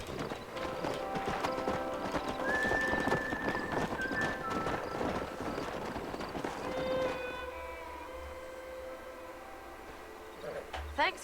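Horses' hooves clip-clop steadily in the Red Dead Redemption video game, with a whinny and faint music threaded through, before the hoofbeats stop and the scene quiets near the end.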